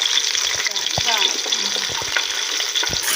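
Onions frying in a pan for biryani give a steady, broad sizzle with occasional stirring scrapes, close and continuous throughout.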